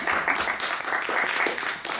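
Audience applauding at the close of an author talk in a bookshop, a steady dense patter of clapping filling the whole stretch at moderate loudness.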